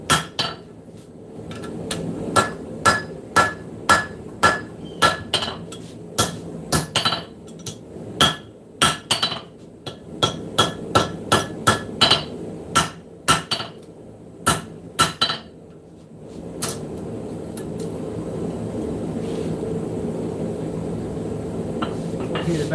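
A blacksmith hammers hot metal against the edge of an anvil in a live shop, ringing clangs in quick bursts that stop for a pause and then give way to a steady forge roar.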